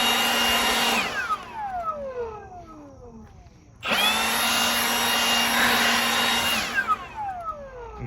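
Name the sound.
leaf blower blowing lawn debris back onto grass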